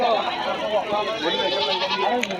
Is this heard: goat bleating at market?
yes